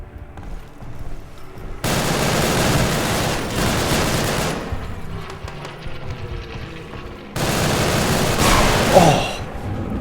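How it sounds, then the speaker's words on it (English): Machine gun fire in a video game, two long sustained bursts of rapid loud shots separated by a quieter gap with faint echoing tails, close and dominant. "Machine gun in position."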